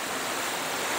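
Continuous rushing of river water at a forest camp, a broad, steady wash of flow heard up close with no voices over it.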